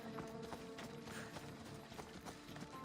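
A horse's hooves clip-clop steadily in Assassin's Creed Odyssey, close and fairly quiet, heard under a dense bed of game sounds and ambience with no talking.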